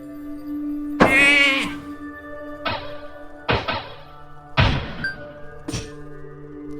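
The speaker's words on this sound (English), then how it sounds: "Let's actually turn this guy into a sheep." Sheep bleats in the dungeon video game Runestone Keeper after a polymorph spell: five loud, separate bleats spaced about a second apart, each opening with a dull thunk against a steady low game tone.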